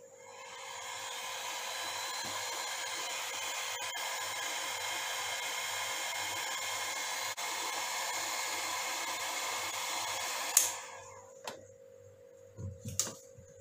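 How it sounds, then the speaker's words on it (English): A hair dryer blows steadily and fairly close for about ten seconds while drying blood smear slides in a lab, then switches off, leaving a few clicks and handling knocks. "now you can dry this slide or blood smear by using the hair dryer"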